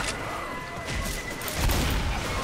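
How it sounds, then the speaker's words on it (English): A pipe bomb goes off in Left 4 Dead 2, a low rumbling burst that swells over a couple of seconds above steady game noise, with the blast peaking near the end. "I'm throwing a pipe bomb."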